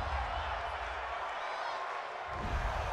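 A football stadium crowd at an NFL game between the New York Giants and Detroit Lions reacts to a roughing-the-passer penalty, a continuous loud roar of disapproval that swells again toward the end.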